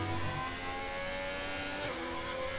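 Formula 1 race car in the video game F1 2020, driven on medium compound tires on a slippery wet track, with a steady, loud, sustained engine drone and shifting harmonic whine throughout, no voices.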